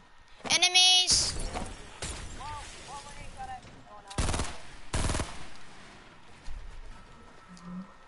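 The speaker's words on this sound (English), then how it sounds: "he's shooting at something" Video game gunfire sounds in several sharp bursts, including a fast automatic rattle early on and louder separate volleys later, with people talking between the shots.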